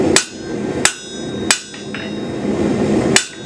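A hammer strikes hot steel while forging a taper on a leaf keyring, four sharp ringing blows at uneven intervals, loud and close, with a steady background hum and no talking.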